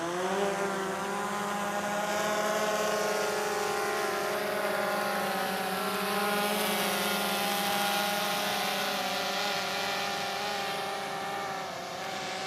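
A DJI Phantom 3 Advanced drone lifts off, its rotors producing a loud, steady multi-toned whine that stays near and constant throughout, with no talking.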